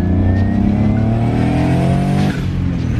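A turbocharged BMW E36 convertible, top down, revs up hard, its loud engine note rising in pitch through the run before a brief dip as it shifts, close and steady.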